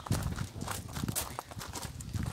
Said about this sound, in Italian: Ho anche l'asino.